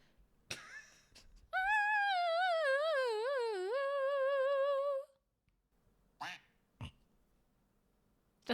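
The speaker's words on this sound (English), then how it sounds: "That's all the quacking? It was one quack." A single drawn-out wavering duck quack, loud and close for several seconds, followed by a couple of short faint knocks and clicks in a quiet room.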